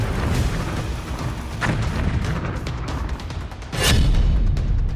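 Loud, dense rumbling blasts fill the clip, with a heavy booming impact near the end from a bomb explosion in Iran amid continuous roaring noise.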